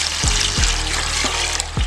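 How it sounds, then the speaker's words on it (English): Warm water runs steadily from a tap into a container of bleach for tie-dyeing a shirt, a continuous close trickle and splash with no talking. "So now you want to add some water into the bleach,"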